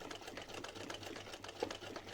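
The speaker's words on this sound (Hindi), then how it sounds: "ये हमने इस तरह से सिलाई लगा देंगे पट्टी को रखते हुए" A sewing machine stitches a doubled fabric strip onto a small dhoti kurta for a Laddu Gopal idol, running in a quiet, steady, rapid rhythm, close and alone without talk.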